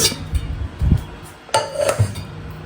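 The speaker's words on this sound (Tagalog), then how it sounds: "Ilagay na natin sa kasirola." Food goes into a casserole pot with clattering metal and glassy clinks, a few knocks and a scraping rattle in short bursts, close by in a quiet kitchen.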